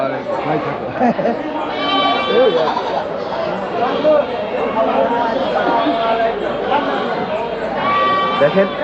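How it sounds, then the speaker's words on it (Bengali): Goats bleating at a large wholesale goat market in Bangladesh, several wavering bleats rising over a busy crowd of chattering voices, with people talking nearby throughout. "দেখেন উন্নত জাতের ছাগলও এই হাটে ওঠে"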